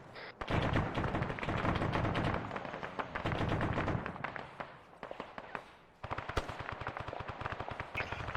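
Heavy .50 cal machine gun fire in the ARMA 3 video game, long sustained bursts of loud rapid shots with a short pause midway before the firing resumes, and no voices over the gunfire.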